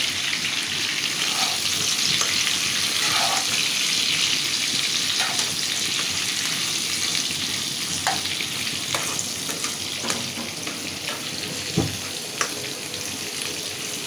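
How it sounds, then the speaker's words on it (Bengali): Pointed gourd (potol) pieces fry in a pan with salt and turmeric, a loud, constant sizzle broken by occasional clinks and scrapes of stirring, with no talking. "আমি এটা সুন্দর করে লাল লাল করে ভাজি করে নেব। পটলটা আমি লাল লাল করে ভাজে নিছি"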